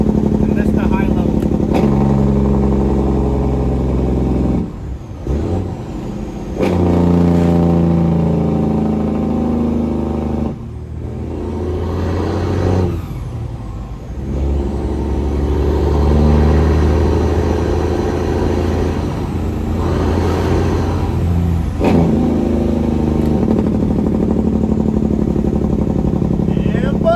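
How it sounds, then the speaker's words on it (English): Straight-piped Freightliner Coronado truck engine running its Jake brake, a loud, deep, continuous rumbling bark that rises and falls in long surges over roughly half a minute, first at the low setting and then at the high setting. "That's the first level Jake brake. And this is the high level."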